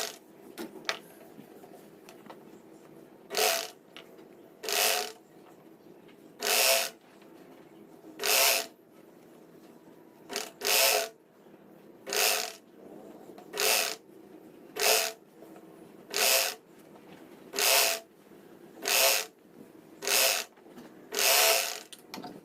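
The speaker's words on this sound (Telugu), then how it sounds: "ఇప్పుడు పైనుంచి ఎలా కుట్టు వేయాలో చూద్దాం." A sewing machine stitches a shirt being refitted to a tight fit, running in short repeated bursts of quick mechanical whirring, about fifteen evenly spaced runs separated by brief pauses, close and clear against a quiet room.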